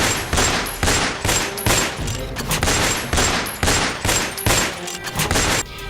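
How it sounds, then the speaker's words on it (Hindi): Rapid bursts of gunfire, dozens of sharp shots in quick uneven volleys, ring out inside a Burger King restaurant in Rajouri Garden, Delhi, loud and close with brief pauses between clusters. "दिल्ली के राजौरी गार्डन के बर्गर किंग रेस्टोरेंट में एक शख्स पर ताबड़तोड़ गोलियां बरसा दी गई"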